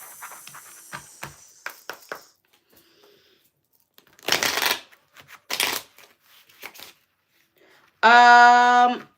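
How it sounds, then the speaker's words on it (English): Cards are riffled and shuffled in a few quick bursts of papery flutter, separated by pauses, followed by a brief tonal electronic sound. "Let me shuffle real quick, clear the energy real quick"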